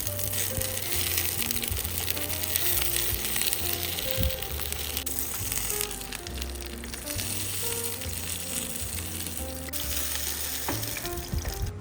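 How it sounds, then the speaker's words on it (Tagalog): Eggplant slices frying in oil in a pan, a steady loud sizzle and crackle with occasional stirring and scraping, no talking. "At magprito tayo ng talong."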